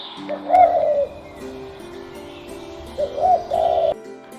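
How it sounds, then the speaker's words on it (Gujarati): A dove gives a few soft, low cooing calls in two separate bursts with a quiet gap between them, heard close and alone. "દવ એટલે હોલો હવે હોલો કેવી રીતે બોલે તે આપણે જોઈએ"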